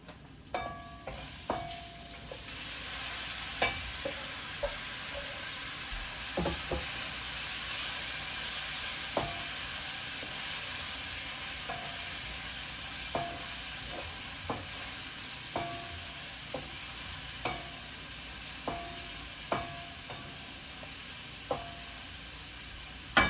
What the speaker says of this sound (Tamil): வெங்காயம் வதங்கிட்டுது, கோவாவை போட்டு வதக்கி கொள்ளுவோம்